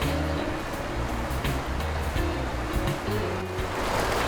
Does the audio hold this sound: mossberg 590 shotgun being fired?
no